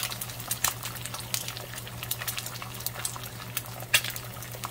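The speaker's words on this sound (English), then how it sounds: "So I'm going to let those fry up." Eggs fry in a pan with a close, continuous sizzle scattered with sharp pops and crackles over a low steady hum.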